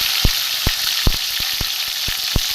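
Chopped tomato sizzles in hot oil with cumin seeds, frying for a vegetarian cabbage curry; a steady bright crackle runs throughout with several sharp spoon taps against the pan at uneven intervals.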